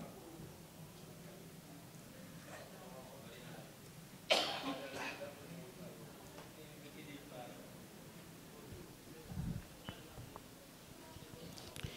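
One sharp, loud cough breaks a quiet room, followed several seconds later by a softer second cough.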